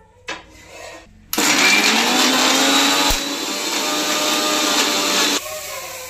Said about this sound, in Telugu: జీలకర్ర, వెల్లుల్లి. వీటిని ఇప్పుడు మిక్సీ పట్టుకోవాలి.